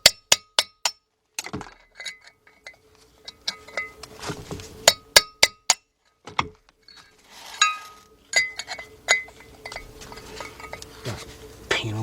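A hammer drives a chisel against a front wheel bearing race on a 1996 Ford F150 pickup, repeated sharp metallic clinks in quick bursts with pauses between, loud and close, with scraping and brief low voices in the gaps.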